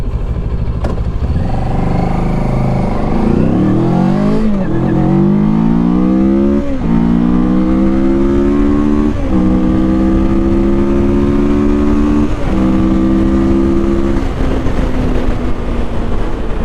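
A Mash FR750 motorcycle accelerates hard through its gears, the loud close engine note climbing steadily in pitch with brief dips at each shift over about fifteen seconds, with no talking.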